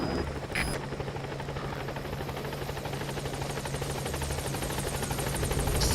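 A support helicopter in Metal Gear Solid V drones steadily as it comes in to the landing zone, its rotor thrum loud and continuous with a buzzing whine throughout.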